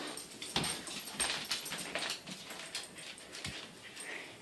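Dogs whine and whimper softly in a home, with small yips and movement noises over a faint steady background hum.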